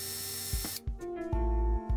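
A cardan shaft part being drilled by hand: an initial hiss gives way to steady tonal whirring, punctuated by several low, heavy knocks at roughly half-second intervals, close and fairly loud.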